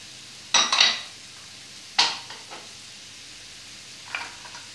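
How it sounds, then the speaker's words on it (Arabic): Onion and peppers sizzle in a pan as they are stirred to golden, with a few sharp scraping bursts from the spoon separated by quieter frying, no talking. "ونحركوا هذا الخليط مزيان، ونخليو هاد البصله هذه تتشحر لينا مزيان هي والفلفله وترجع ذهبيه"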